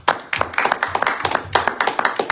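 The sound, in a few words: congregation clapping in church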